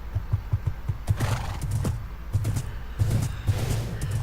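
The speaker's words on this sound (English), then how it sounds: "We got a fairly fast horse here." In the Minecraft video game, a horse whinnies and neighs loudly in repeated bursts over rhythmic clip-clop hoofbeats, with no talking heard.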